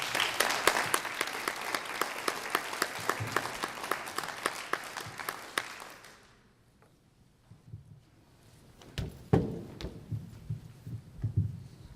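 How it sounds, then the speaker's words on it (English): Loud, dense applause fills a hall to welcome a speaker coming up, lasting about six seconds before dying away, followed by a quieter stretch with scattered knocks and a few thumps. "let's give him a big round of applause"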